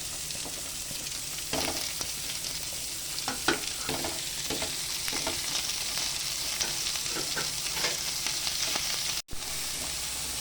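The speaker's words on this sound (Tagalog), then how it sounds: "Ayan, sabog na po natin yung sibuyas naman." Onions frying with garlic in a pan, a steady close sizzle with intermittent scraping and stirring strokes, no voices.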